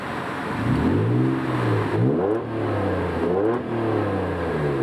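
A 1991 Honda NSX NA1 engine revs up and down in repeated throttle blips, rising and falling in pitch, loud and close with no talking.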